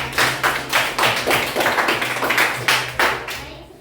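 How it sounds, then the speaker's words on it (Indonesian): A short burst of clapping from a small group, a series of distinct claps that thins out after a few seconds. "beri tepuk tangan untuk kelompok 2."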